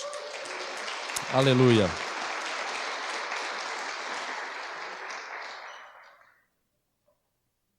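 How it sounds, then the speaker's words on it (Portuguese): A church congregation at a Portuguese-language worship service bursts into sustained applause, loud and dense for several seconds, with one voice shouting a praise word near the start before the clapping fades out and leaves silence. "Dê um aplauso ao Senhor por isso."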